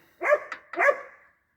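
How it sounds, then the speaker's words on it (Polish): A farm dog barks twice in quick succession beside a Sipma Farma II baler, two loud, close harsh barks about half a second apart with a short yip between them, then quiet. "Cicho piesku."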